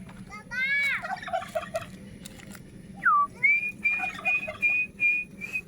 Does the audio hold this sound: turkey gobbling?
yes